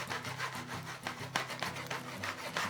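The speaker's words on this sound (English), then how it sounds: "Moving the pan with one hand and my spatula furiously with the other." A spatula stirring omelet eggs in a pan that is shaken back and forth, giving fast rhythmic scraping and rubbing strokes, close and continuous, with no voices.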